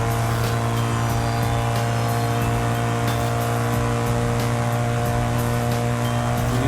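A BMW M3 GTR engine pulls hard through the upper gears at high speed, a loud, continuous droning tone with faint ticking clicks at regular intervals, heard close and steady with no one talking.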